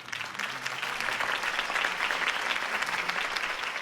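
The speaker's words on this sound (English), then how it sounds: "could have heard that applause" A crowd applauds steadily in the video game Batman: The Telltale Series, a dense wash of clapping hands that holds at an even level from start to finish.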